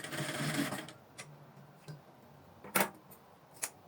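Sewing machine stitching a structured cone sleeve, a short whirring run at the start followed by quieter gaps broken by a few sharp clicks and taps.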